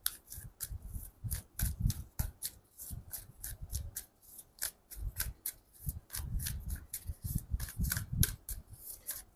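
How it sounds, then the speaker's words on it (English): A deck of cards, apparently tarot, is shuffled by hand in quick bursts of crisp, riffling slaps and clicks, close and clear, repeating in uneven rhythm with no talking. "I took a lot of time to do the shuffling"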